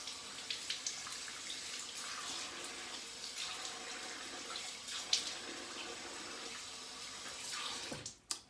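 Cold tap water runs steadily into a sink during a head shave, a continuous faint splashing hiss with small drips and clinks, ending with a brief clatter.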